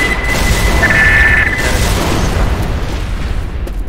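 A grenade going off in Left 4 Dead gameplay, one loud booming blast with a long rumbling tail that fades slowly, a thin ringing tone riding over it near the start.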